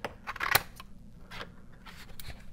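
Scissors cut through a paper template for a Mustang canopy project in a few short, close snips spread unevenly over a couple of seconds, with a quiet low hum underneath.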